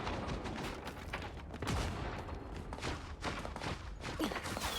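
Rapid bursts of sniper gunfire in the hero shooter Marvel Rivals, sharp cracks scattered across several seconds amid a busy, dense game mix.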